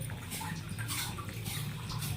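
Rain comes down steadily in a continuous, fairly close wash of patter and splashing water, with no talk over it.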